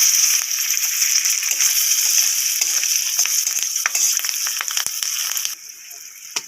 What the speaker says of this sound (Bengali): ফোড়নটা ভাজা হয়ে গেছে, কাঁচা লঙ্কা দিয়ে দেবো।